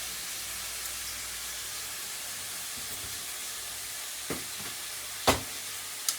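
Garlic cloves frying in a pan give a steady, soft sizzle throughout, with a few sharp clatters near the end as the pan or utensil is knocked.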